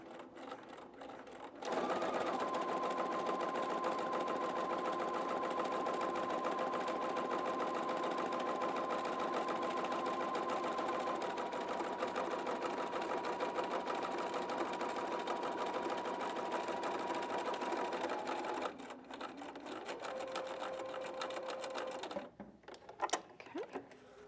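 A sewing machine stitches a French seam in one long, continuous mechanical whir lasting most of the clip, then stops and gives a short final run, close and alone.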